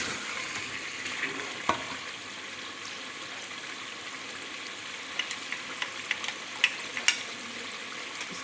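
Chicken frying in a pot for biryani, a steady soft sizzle with occasional sharp pops and crackles, no voices.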